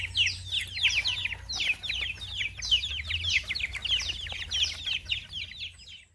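Chickens on a rural homestead farm in Krabi, Thailand, give a dense, continuous run of high, rapid chirping calls, fairly close and steady over a low background hum, with no talking.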